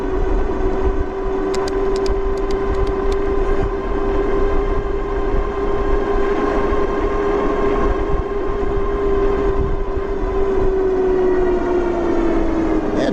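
HOVSCO HovGtrs 1500W moped-style e-bike with a 90 Nm motor under full throttle climbing a sizeable hill, a steady, loud electric motor whine holding one pitch with road and wind rumble beneath, sagging slightly near the end.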